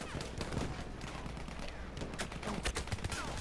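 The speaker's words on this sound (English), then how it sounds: "I hear a lot of gunfire." Dense, continuous gunfire from the Battlefield 1 video game, with rapid overlapping shots and bursts close and distant forming a steady battle din throughout, without talk.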